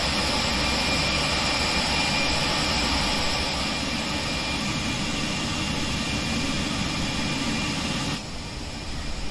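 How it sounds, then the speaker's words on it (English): Avro RJ100 jet engines spooling at takeoff in X-Plane 11, a loud, steady roaring whoosh with a constant high whine, holding level before dropping slightly near the end. "And we'll go ahead and take off here."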